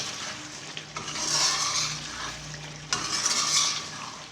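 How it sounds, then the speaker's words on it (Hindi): Chicken karahi masala, Peshawari charsi street style, is stirred in a pan: a spoon scrapes and swishes through the sizzling mixture in two long strokes, close and fairly loud, with no talk. "इसको अच्छी तरह मिक्स करें, अच्छी तरह मिक्स कर लें अंदर"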